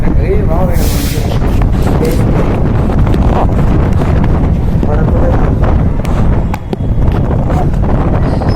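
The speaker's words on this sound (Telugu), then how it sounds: "కానీ గాలి మాత్రం మంచిగా వస్తుంది, ఫుల్ గాలి" Strong wind buffets the microphone in a constant, heavy roar from start to finish.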